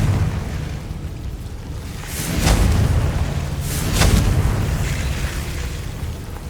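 Confringo spell blasts in Hogwarts Legacy, two heavy booming explosions a second and a half apart over a constant low rumble of game ambience, loud and close.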